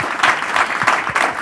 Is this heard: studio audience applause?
yes